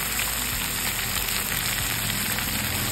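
Cauliflower pieces frying in hot oil with black cumin seeds and a little salt, a dense, steady, close sizzle running unbroken throughout.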